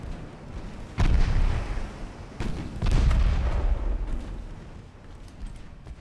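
Naval artillery in Ultimate Admiral Dreadnoughts, heavy ship guns booming in two big deep blasts that roll and rumble away, over a steady low battle drone.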